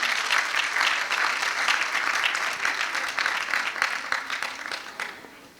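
A crowd applauds at a school graduation ceremony, a steady dense roar of many hands clapping that slowly fades toward the end, with no talk over it.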